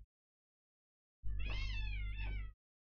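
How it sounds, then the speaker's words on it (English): After a silent pause, a cat outside a window gives one drawn-out, clear meow with a wavering pitch, heard alone and fairly close. "we got a cat outside the window"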